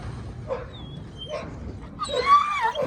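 Kangal dogs, Anatolian shepherd type, let out a few short whimpers and yips, then a louder burst of whining barks near the end. The sounds come close by over low background rumble.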